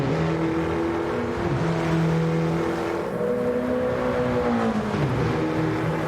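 A racing video game car's engine drones continuously with no talking, its pitch rising through the gears and dipping sharply at two shifts or braking points, loud and close throughout.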